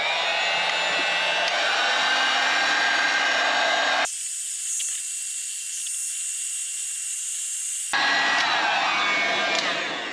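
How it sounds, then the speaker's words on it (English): A heat gun blows steadily onto faded plastic trim on a Porsche, giving a loud, continuous airy hiss up close with no talking. Partway through, the tone briefly shifts thinner and higher before returning to the fuller roar. "I'm gonna try and heat that up with a heat gun"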